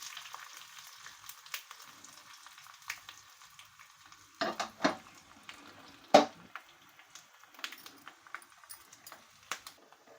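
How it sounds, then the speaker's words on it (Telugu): Quiet oil sizzle from a tempering of curry leaves and broken dried red chillies for Mysore rasam, a faint steady crackle punctuated by a few sharper pops and utensil clinks, with no speech. "కరివేపాకు వేసిన వెంటనే మనకు ఘాటు వస్తుంది కాబట్టి ఫైనల్లో నేను ఎండుమిర్చిని వేసేసుకుంటున్నాను."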